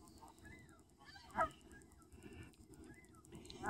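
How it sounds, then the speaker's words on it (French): Faint Canada goose honks sound a few times from a distance over a low, steady background rumble by a river, with one slightly louder call partway through. "c'est le temps ici des bernaches"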